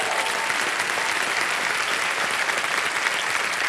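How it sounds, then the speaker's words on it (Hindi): Loud, dense applause from a studio audience on the KBC quiz show, many hands clapping steadily and evenly for several seconds with no break. "मैं चाहता हूं कि जोरदार तालियां उनके लिए"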